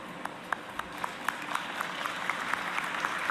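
Scattered, hesitant clapping from a small audience after a political speech, a few distinct claps growing into thin, steady applause over a quiet room.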